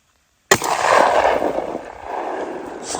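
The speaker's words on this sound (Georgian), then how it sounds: "დღეს იქნება პირველი გასროლა" A single sharp, loud 12-gauge shotgun shot cracks out after a brief silence, followed by a long rolling echo that fades slowly across the open air.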